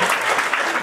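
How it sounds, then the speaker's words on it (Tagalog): Dense applause from an audience at a health-products distributor seminar, a steady, even wash of many hands clapping with no talk over it. "Salamat po sa pumalakpak ulit."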